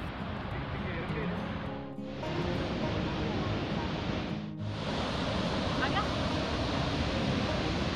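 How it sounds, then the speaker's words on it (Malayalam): Athirappilly waterfall gives off a steady, full roar of rushing water, heard from fairly close and constant throughout, with two brief dips in the noise. "നമ്മുടെ ഈ യാത്രയിലെ ഏറ്റവും പ്രധാനപ്പെട്ട കാഴ്ച ആതിരപ്പള്ളി വെള്ളച്ചാട്ടം തന്നെയാണ്"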